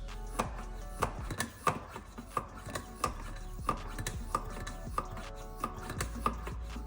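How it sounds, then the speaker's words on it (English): A Misto oil sprayer is pumped by hand to build pressure, giving a rhythmic series of about a dozen sharp, close plastic clicks and thumps at a steady pace, with no voices. "So we'll give it about 10 or 15 pumps."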